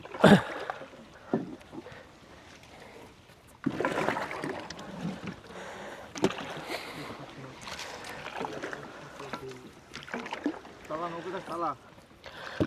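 Small boat moving through a water lily marsh, with watery splashes, paddle knocks and rustling under frequent nearby talk throughout.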